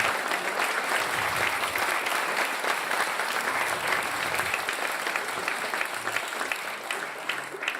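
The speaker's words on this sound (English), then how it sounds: "Round of applause." Steady, loud applause from an audience at a magician's performance in South Tyneside fills the whole stretch, dense clapping continuing without pause.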